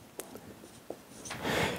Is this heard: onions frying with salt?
no